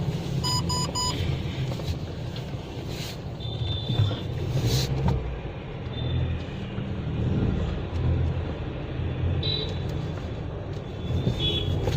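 A car being parked beside a tea stall at Delhi University, its engine a steady low rumble over surrounding traffic noise, with a few brief beeps near the start.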